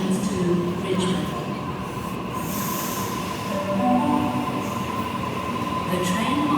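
A commuter train at North Sydney station in Sydney, sounding as a steady, continuous rumble with wheel squeal and tonal hums from the carriages, loud and close on the platform, with faint voices in the background.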